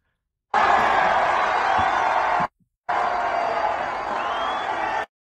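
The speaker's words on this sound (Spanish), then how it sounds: "podrás escuchar tanto aplausos como pitidos" A crowd at a Milei event in Madrid roars with cheers, applause and scattered whistles in two loud, sustained bursts separated by a brief silent gap.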